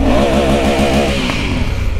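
Honda Africa Twin motorcycle engine revving close by, a loud, continuous throaty roar with rising and falling pitch throughout.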